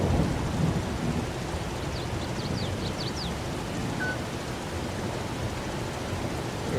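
Steady rain falls in Farming Simulator 22 with a deep continuous rumble of thunder underneath, a dense even wash of noise with a few faint chirps near the start and no voices.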